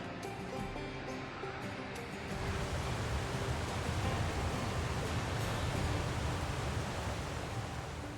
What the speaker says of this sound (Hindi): एक के बीच में आ रहा है वाटरफॉल, और एक इधर ये देखो ये वाटरफॉल हो गया